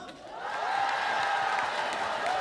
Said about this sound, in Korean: 재미있게 즐기셨으면 박수와 함성!